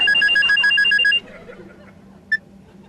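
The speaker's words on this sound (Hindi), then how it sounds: "फोन आ रहा है, फोन।" A phone rings in a quick repeating trill for about a second, then stops, followed by a single short electronic beep in a quiet room.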